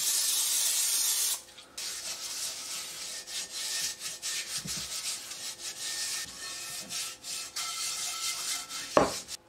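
Close, soft rubbing and wiping strokes as oil is rubbed by hand into a pre-seasoned Mirro cast iron skillet, repeated irregularly, with a brief spray hiss at the start and a sharp knock near the end.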